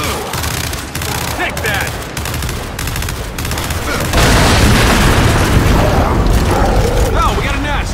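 Loud, dense gunfire from the Xbox One shooter Gears 5: rapid bursts and heavy booms that swell into a sustained roar of firing, with voices shouting over the battle.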